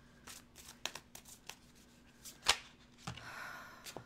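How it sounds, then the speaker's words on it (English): Tarot cards are shuffled by hand in a quiet room, giving irregular soft riffles and taps, with one sharp snap near the middle and no speech. "I'm going to shuffle until I feel good"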